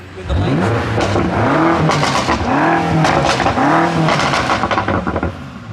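A stock sports car engine at a car meet revs up repeatedly in sharp bursts, each climb in pitch dropping back, loud and close with crackles between revs.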